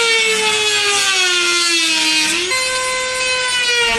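A Dremel cutting wheel slices into a Toyota Tacoma front bumper, a loud, close, high-pitched whine that dips in pitch under load, then briefly jumps and settles again, with no talking.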